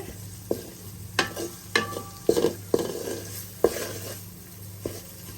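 Spice masala with green chillies is stir-fried in a pan, with a low sizzle beneath a series of sharp scraping and clinking strokes from the spatula against the pan, spaced irregularly.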